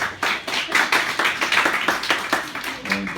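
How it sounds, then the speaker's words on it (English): An audience claps in steady applause for the advisors of a high school anti-bullying club, dense and continuous throughout. "let's have a round of applause for the two advisors here, Dean Phil Bruno"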